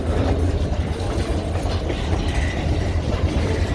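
A freight train rolls by in Iron Mountain, Michigan, just after a truck struck it. A loud, close, continuous low rumble carries steady wheel clatter throughout, with no voices.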